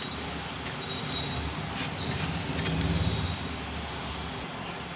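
Moong dal sizzles as it fries in hot oil in a home kitchen, giving a steady, dense crackle and hiss that holds for the whole stretch and swells slightly midway. No voices are heard.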